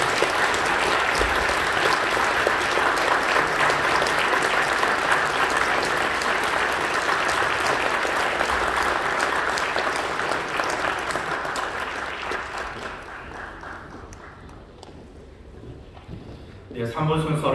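A congregation at Incheon Full Gospel Church applauds during an elder ordination service, a loud, sustained wash of clapping that thins out and fades after about twelve seconds, leaving quieter room sound with faint voices.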